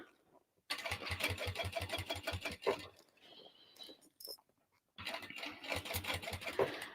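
A sewing machine stitches a dolly bag in two close, steady runs of rapid mechanical clatter, with a short pause of quieter handling and a brief click between them.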